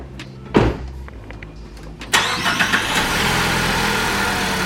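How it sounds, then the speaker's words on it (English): A 2015-2018 Ford Focus starts up: a sharp click and a door-like thump come first, then the starter catches and the engine settles into a steady, fairly loud idle rumble. "let's go ahead and start the car and see what the actual headlights are looking like"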